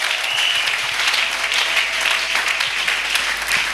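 A church congregation applauding in praise of Jesus Christ, loud continuous clapping from a crowd of many people, steady throughout.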